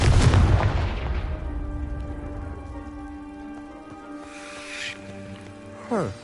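A Confringo blasting spell explodes in Hogwarts Legacy, bursting through a piled-up heap with a loud, sharp boom at the start that rumbles away into a long decay over ringing tones, ending with a brief swell.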